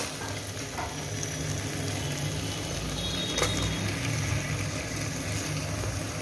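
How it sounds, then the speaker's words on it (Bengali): Hilsa fish heads frying in a cooked-down masala, a steady close sizzle and hiss with faint occasional stirring scrapes, continuous throughout and with no voices. "এবার আমি এর মধ্যে মাথাগুলো দিয়ে দিলাম"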